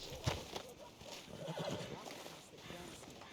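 A horse in Red Dead Redemption 2 gives a neigh amid clip-clopping hooves and game ambience, with talk layered over it.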